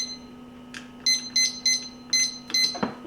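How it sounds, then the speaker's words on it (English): An oven timer beeps in a home kitchen as it is set, giving a series of short, close, bright electronic beeps in an irregular rhythm over a steady low hum. "And then I'll set my timer for 20 minutes and check it."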